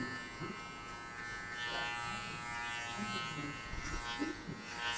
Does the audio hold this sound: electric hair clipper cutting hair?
yes